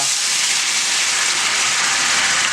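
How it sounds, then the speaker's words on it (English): White wine hits a hot pan to deglaze after shallots, giving a loud, continuous steamy sizzle and hiss that stays steady and close for the whole stretch. "then I'm gonna deglaze with some white wine"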